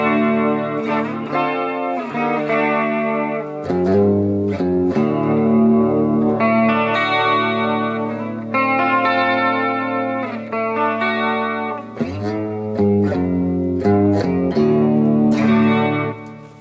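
Stranger ML electric guitar played through effects, with sustained chords and melodic phrases rich in chorus and reverb shimmer, loud and continuous with brief pauses between phrases.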